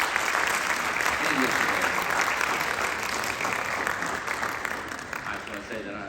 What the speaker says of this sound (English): Round of applause to all those students that have performed today